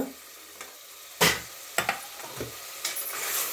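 Two green chillies hit hot oil in a pan while a bottle gourd mutton curry is being cooked. Brief crackling sizzles and a few sharp stirring scrapes stand out over a soft background hiss.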